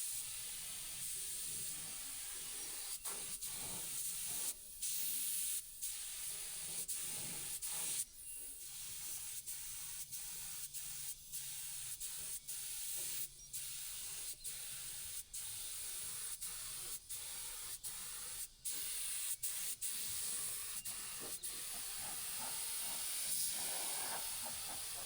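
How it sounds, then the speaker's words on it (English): A spray gun hisses steadily while coating the underside of a steel lowboy trailer deck insert for a 50-ton trailer, a long continuous close spray broken by brief pauses and clicks of the trigger, with no talking. "I am going to spray as much as I can because this height's a lot more convenient"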